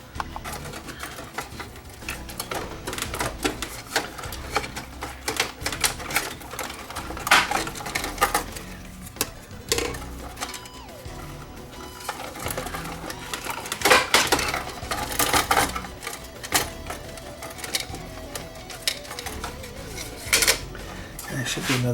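Screws being worked out of the circuit board inside an NAD T-762 receiver that cuts out when warm, with close, irregular metallic clicks, taps and scrapes of tools against metal parts throughout.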